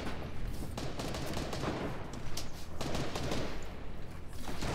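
Fortnite gunfire during a pro duo tournament final: steady, rapid volleys of shots crackle nearly nonstop at moderate loudness, with sharper bursts standing out midway.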